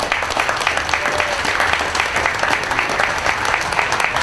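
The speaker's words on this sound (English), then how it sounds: "let's give a big round of applause" A fair audience applauds steadily for several seconds, dense overlapping claps forming a continuous, fairly loud wash with no voices over it.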